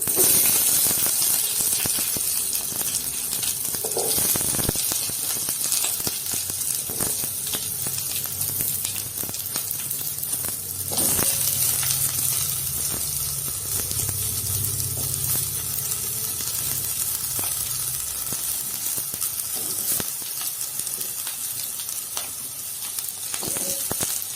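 White bitter gourd sautéing in a pan of oil after a mustard seed tempering, a continuous close sizzle broken by scraping stirs and occasional clinks, going on steadily with no talk.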